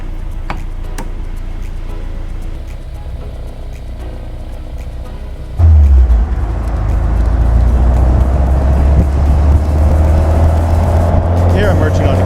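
A car engine drones steadily from inside the cabin. Partway through, a louder, deeper engine and road rumble jumps in as the car accelerates and merges onto a highway, holding strong to the end.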